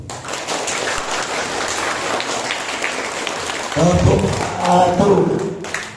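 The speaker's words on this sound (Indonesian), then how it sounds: "Ya, tepuk tangan dulu" Children at a primary school Isra Mi'raj religious event clap together, a steady wash of applause that gives way to a voice speaking over the room near the end.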